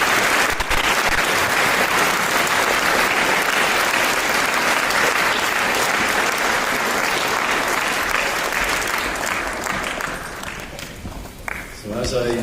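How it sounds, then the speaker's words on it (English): Audience at a school Founder's Day assembly applauds in a dense, steady round of clapping that holds loud for about ten seconds, then thins and fades near the end. "let's give them a round of applause"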